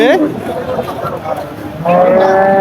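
A bull gives a loud, close moo at a cattle market in Chaugachha, then another long low moo begins near the end, with murmuring voices and crowd noise between.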